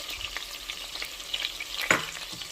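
Garlic and onions frying in a pan for a green banana and prawn curry, a soft continuous sizzle broken by light stirring clicks and one louder clatter near the end.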